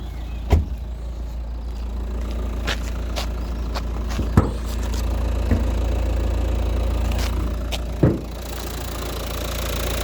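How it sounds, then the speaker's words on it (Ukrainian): A 1.5 dCi diesel engine of a 2020 Renault Kadjar idles steadily up close, with a few sharp clicks and knocks scattered over the low continuous rumble. "Зараз вам дам послухати, як працює двигун."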